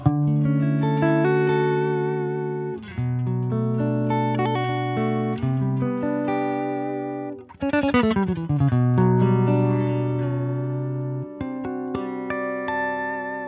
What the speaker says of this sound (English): let's start with a listen to the bass sound of the preset with no foot switches engaged